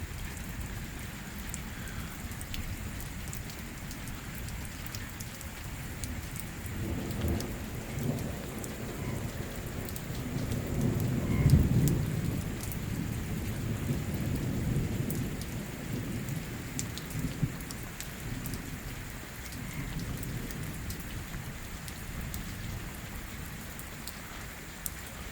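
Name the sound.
heavy pre-monsoon rain with thunder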